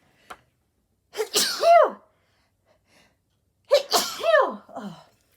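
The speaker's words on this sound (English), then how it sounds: "I cannot sneeze quietly" Two loud, close sneezes from one person, each a sharp intake followed by a forceful burst, separated by a few seconds of quiet in an indoor craft-room setting.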